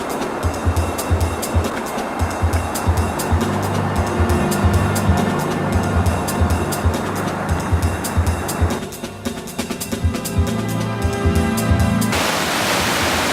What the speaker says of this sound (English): I finally found a way down to the stream.